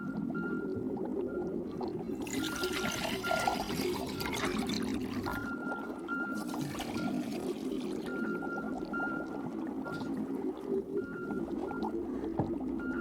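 Displaced water is poured steadily onto one side of a balance scale, a continuous splashing pour with trickling and dribbling that holds for several seconds at close range, with no voices.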